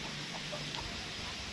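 Chickens near their coop on a rural farm give a few soft, scattered clucks, faint and brief against a low background hum.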